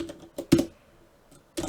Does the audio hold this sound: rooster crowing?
no